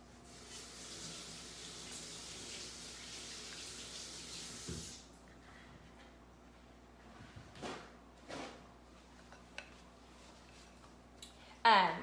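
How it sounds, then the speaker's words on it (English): Water running from a kitchen tap to rinse melted chocolate off a hand, a steady hiss of flow that stops partway, followed by quieter clinks and handling sounds. "I rinsed the chocolate off my hand."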